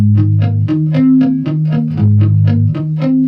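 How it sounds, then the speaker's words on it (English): An electric guitar plays a quick, even run of picked notes, the sound thickened by a subtle doubled echo that makes it seem like two guitars. "That's a doubling effect that I put in there, basically to make it sound like two guitars."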